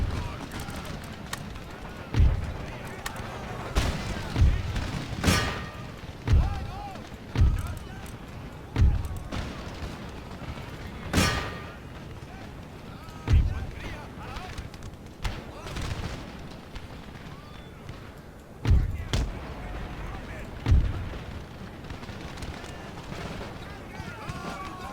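Cannon and musket volleys thunder across an Empire: Total War battlefield, sharp booms landing at irregular intervals with a steady crackle of gunfire between them, while a voice talks over the fighting.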